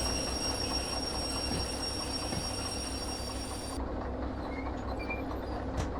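A train braking in the Derail Valley video game makes a steady, heavy rolling rumble. A high metallic whine runs over it and cuts off partway through, leaving the low rumble alone.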